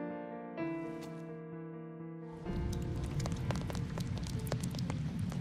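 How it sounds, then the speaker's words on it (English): Rain falling in the video game Heavy Rain, a dense patter of drops on surfaces that starts suddenly after a sustained musical tone fades, continuing steady and moderately close with scattered sharper ticks. "I love the rain sounds already."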